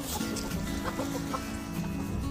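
Chickens cluck softly in a cold farmyard, with scattered short calls over a steady background of outdoor noise and no talking.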